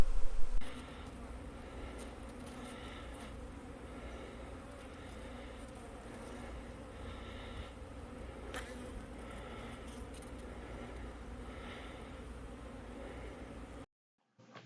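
A honey bee swarm gives off a steady, dense buzzing hum close by while being settled into a hive box outdoors, continuous and unbroken with no voices, cutting off abruptly near the end.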